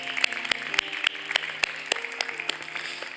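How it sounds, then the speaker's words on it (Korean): Church congregation applauding during a Sunday worship service, a steady patter of clapping with some sharper individual claps standing out, moderately quiet and fairly distant in a large room, no talking over it. "우리 박수로 또 격려하도록 하겠습니다"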